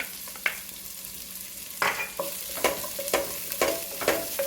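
A small onion frying in a pan, sizzling steadily with a series of sharp spatula scrapes and stirring strokes, close and moderately quiet, no talk.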